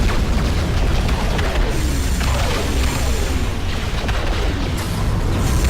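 Heavy cannon fire and explosions from the real-time strategy video game Ashes of the Singularity form a dense, continuous roar of booms and crashes at steady high loudness throughout.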